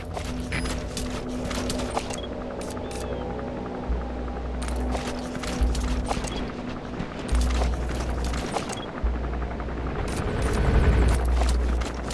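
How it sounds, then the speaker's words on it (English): An enemy gunship helicopter in Metal Gear Solid V thrums steadily overhead, with its rotor drone broken by bursts of rapid gunfire and heavy thuds. No one speaks. "That's an enemy gunship."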